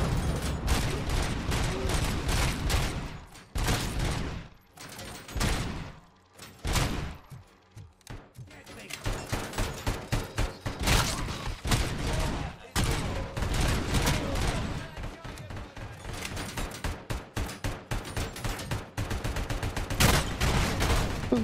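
Sustained gunfire in the RoboCop Rogue City video game, with dense rapid bursts and heavy thuds pounding almost continuously at close range, broken by a few brief pauses.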